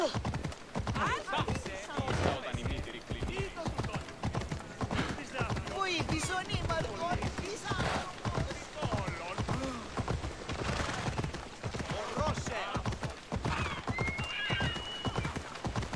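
Rapid, rhythmic hoofbeats of a galloping horse in the video game Assassin's Creed Odyssey pound throughout, with occasional neighs, while a person talks over them.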